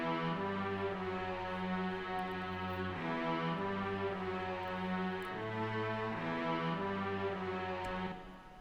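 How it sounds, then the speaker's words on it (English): String preset from Logic playing a slow sustained chord progression, rich layered tones changing every second or so, clean and alone before fading out at the end. "But here's what the strings sound like."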